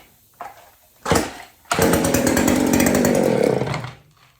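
A Homelite 150 Automatic or McCulloch 610 chainsaw with no primer is choked and pulled, giving a couple of short coughs, then catches and runs loud and raspy for about two seconds before dying away.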